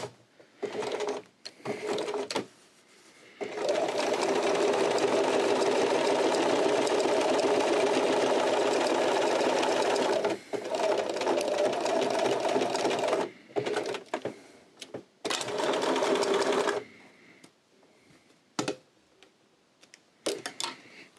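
A sewing machine stitches a coin purse in several bursts, one long steady run followed by shorter runs separated by pauses, with a rapid close-up mechanical whir and no talking.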